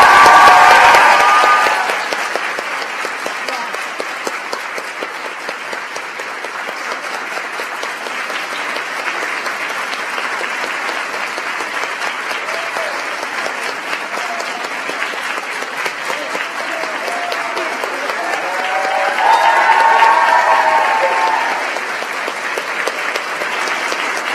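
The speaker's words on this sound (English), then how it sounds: "Should we give them another round of applause?" An audience at a White House celebration honoring girls leading change applauds at length, with loud, sustained clapping from a large crowd that swells near the start, eases, then rises again before continuing.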